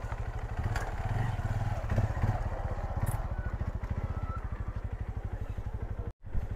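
A motorcycle engine runs steadily close by, its low, even pulsing throb holding for about six seconds with a faint rattle on top, then cutting off abruptly before a short final burst.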